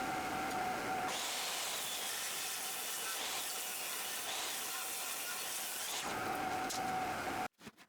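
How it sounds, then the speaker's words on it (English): A saw rips a 2x4 wooden board down to 3 inches, trimming a quarter inch from each side. A loud, steady cutting roar runs almost the whole time and then cuts off abruptly near the end. "I start by ripping down my 2x4 to 3 inches by removing a 1/4 inch from each side"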